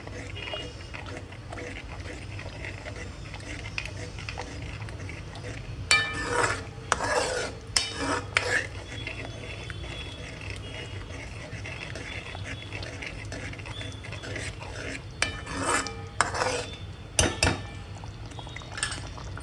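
A spoon scrapes and stirs through besan mixed into a taro leaf curry in a pan, with bursts of scraping clatter in short clusters over a steady low background.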